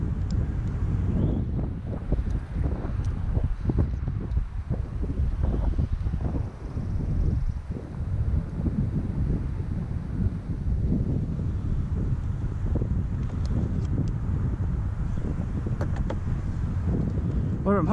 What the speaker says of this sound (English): It is kind of a windy day today.